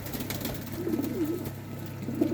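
Soft, continuous cooing of yellow pigeons fills a loft, low rounded calls overlapping at a steady murmur, with faint background rustle and no talking.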